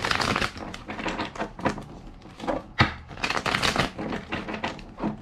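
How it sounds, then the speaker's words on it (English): Tarot cards shuffled by hand in dense, rapid riffling bursts, close and fairly loud, with short pauses between the shuffles and a sharp tap near the middle. "Two more shuffles."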